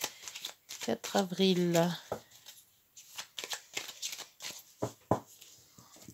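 Tarot cards are shuffled by hand in rapid, crisp riffling bursts that run through most of the stretch, mixed with someone speaking French over them.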